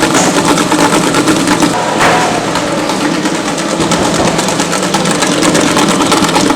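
An electric mixer beats pound cake batter, a loud, continuous motor whir with a rough grinding texture that holds steady throughout at close range.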